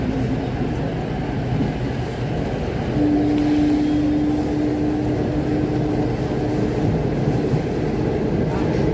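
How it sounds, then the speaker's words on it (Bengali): A Kolkata Metro train runs on the underground Green Line between Esplanade and Howrah Maidan, giving a steady, loud rumble throughout with a sustained tonal hum rising in the middle. "তাই এসপ্ল্যানেড থেকেই হাওড়া ময়দান পর্যন্ত এখন ট্রেনটা যাচ্ছে।"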